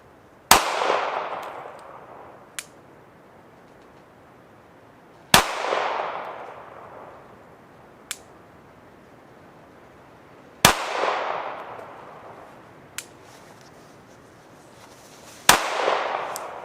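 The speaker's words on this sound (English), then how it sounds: "So go ahead, 5 rounds slow fire, same point of aim" A pistol fitted with an RMR red-dot optic fires slow, deliberate shots outdoors, each a sharp, loud crack with a fading tail, spaced about five seconds apart, with fainter distant pops in between.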